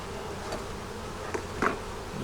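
A low, continuous buzz of bees around a hive drones close by, with a few brief louder passes as individual bees fly near.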